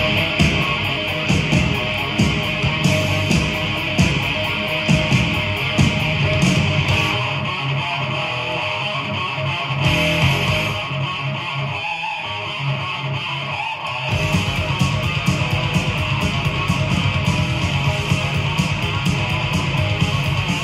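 Heavy metal track from a band's debut album plays loud and dense with driving drums and distorted guitars, briefly thinning out midway before the full band crashes back in.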